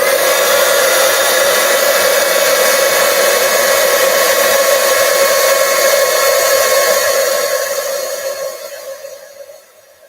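A heat embossing tool blows hot air onto a card with a loud, steady whirring hum held for about eight seconds before winding down and fading out.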